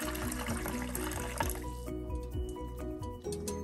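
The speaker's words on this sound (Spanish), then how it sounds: "Agregamos nuestras 2 tazas de agua en una olla grande" Two cups of water poured into a large cooking pot in a home kitchen, a steady splashing trickle with small drips running throughout, close and fairly quiet, with no talking.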